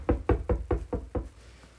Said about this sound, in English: I'll go ahead and knock on the door.